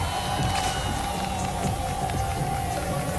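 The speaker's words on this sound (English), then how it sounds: "They must be cheering for Sulky." Crowd noise at a StarCraft 2 tournament grand final, the 2013 HOT6ix Cup: a steady, dense wash of audience cheering and shouting spanning the whole moment without pause.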